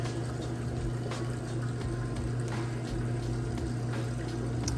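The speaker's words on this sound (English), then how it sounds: "Here's draining that water out nice and fast." A Whirlpool top-load washer drains its water in rinse mode, a steady pump hum with rushing, gurgling water that stays even and continuous throughout.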